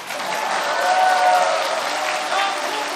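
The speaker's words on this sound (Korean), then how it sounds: "박수 치셔도 됩니다" Audience clapping steadily at a Democratic Party leadership candidate's joint campaign speech event in Daegu–Gyeongbuk, a dense wash of applause swelling slightly mid-way and holding without words.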